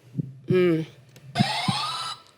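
Quiz game buzzer on a French-language TV spelling quiz sounds twice, each a short harmonic electronic tone, loud and close, with brief talk and knocks around it.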